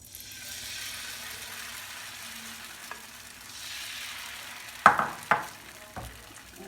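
Batter poured into a greased pan for cheesy chicken crepes gives a faint, steady sizzle, with a few sharp clinks and scrapes of a utensil against the pan near the end.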